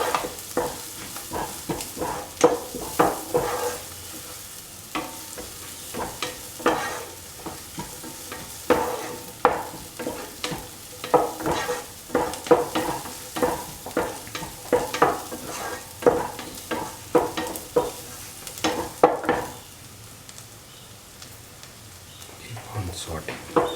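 Shallots sauté in a pan with a soft sizzle, broken by frequent scraping and stirring strokes of a utensil, moderately quiet and close.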